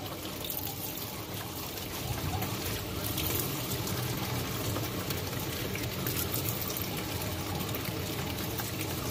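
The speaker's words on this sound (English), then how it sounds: "we're gonna need to fill up one of these bottles about 3/4 the way with water" Water streams steadily into a plastic bottle, a continuous hissing pour that runs without pause from start to finish, fairly close.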